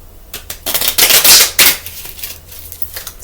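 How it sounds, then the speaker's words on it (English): Tarot cards being shuffled by hand, a run of quick papery riffles and slaps that builds into a loud burst in the middle and then trails off into lighter taps, close up and alone. "Now if they flip when we shuffle them, that's different"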